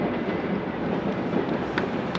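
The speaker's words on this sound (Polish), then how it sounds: "No właśnie jedzie pociąg." A train rolling past near an abandoned apartment block in Poland, a steady rumbling clatter of wheels on rails, moderately distant and continuous, with no one talking.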